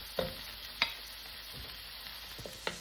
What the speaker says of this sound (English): All right, so the onions are sauteed.